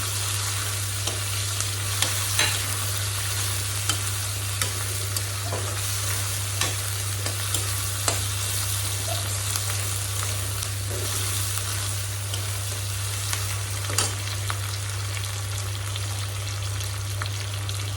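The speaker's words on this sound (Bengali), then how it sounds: "দিয়ে দেবো তেলের মধ্যে এই যে কাঁচা লঙ্কাগুলো কুচিয়ে নিয়েছি" Chopped green chillies frying in hot oil, a steady sizzle with scattered small pops and crackles under a constant low hum, no voices.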